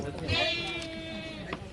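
Sheep bleat in Kamareddy, a close, wavering bleat stretching over most of a second amid livestock ambience, with a shorter bleat near the end and some background voices.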